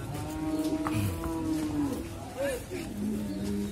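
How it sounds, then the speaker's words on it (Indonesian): Large jumbo cattle at Pasar Sunggingan, a big livestock market in Central Java, lowing repeatedly amid a busy, crowded market din with people talking nearby. "Di Pasar Sunggingan ini juga banyak sapi-sapi jumbo yang bawa ke sini."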